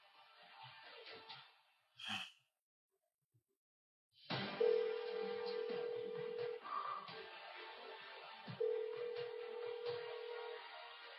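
A telephone rings out with no answer, two long electronic ring tones separated by a pause, heard over a hissy indoor background with a brief noise before the ringing starts.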